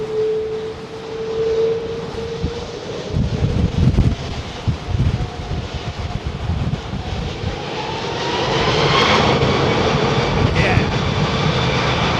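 A British Airways Boeing 777-200 with Rolls-Royce Trent 800 engines lands at Heathrow in stormy wind, its engine roar and rising whine swelling up loud over gusty wind noise.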